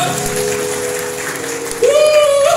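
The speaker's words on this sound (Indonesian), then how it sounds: "Kita tepuk tangan di atas kepala." A church congregation claps with hands raised above their heads, a continuous, busy patter under a sustained musical tone that rises and grows louder near the end.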